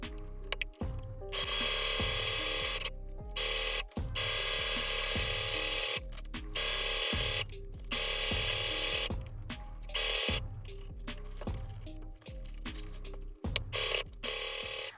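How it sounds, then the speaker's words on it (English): A cheap, small sewing machine stitching at a sped-up pace, buzzing whirring bursts broken by short pauses, close and mechanical. "now let's get into some sewing machine sped up ASMR"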